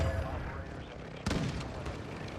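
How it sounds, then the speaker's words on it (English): Gunfire in the video game Call of Duty DMZ, a sharp burst of shots at mid-clip followed by scattered cracks over a steady combat rumble, with players talking throughout. "We're getting shot."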